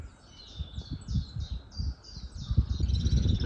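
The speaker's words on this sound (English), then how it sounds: "listening to the birds tweeting" Birds tweet and chirp in a steep garden on a morning, a run of repeated high calls over low rumbling handling noise and breeze, steady and moderately close, with no talk.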